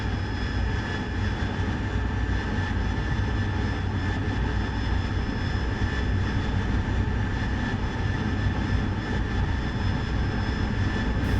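A Harrier jet's engine roars steadily through a go-around in the DCS flight simulator, a loud, continuous drone that holds unchanged for the whole stretch with no voices over it.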